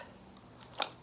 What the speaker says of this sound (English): I'll just give it a quick snip, zip, zap,